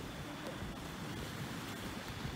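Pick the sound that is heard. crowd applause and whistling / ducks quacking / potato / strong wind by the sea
strong wind by the sea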